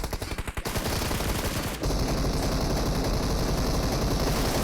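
Dense, loud automatic gunfire in PUBG Mobile, rapid bursts rattling through the first two seconds and then a steady roar of sustained firing that carries to the end, with no talk.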